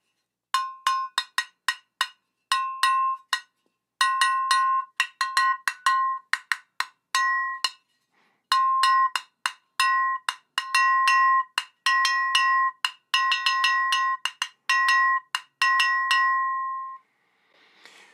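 Bright, dry metallic clanks from a small atoke bell struck with a metal striker, played in quick rhythmic bursts with brief pauses, ending on one longer ringing note.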